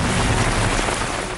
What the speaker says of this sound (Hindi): यूपी में मूसलाधार बारिश के बाद राज्य के आधा दर्जन नदियां उफान पर हैं